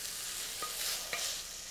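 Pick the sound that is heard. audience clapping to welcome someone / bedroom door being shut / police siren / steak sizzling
steak sizzling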